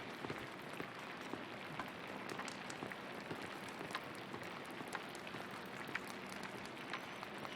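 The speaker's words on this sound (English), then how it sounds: "God give me strength to endure the rain." Steady rain falling in the video game Pentiment, a soft continuous patter of drops on surfaces with faint scattered ticks, quiet and even throughout with no voices.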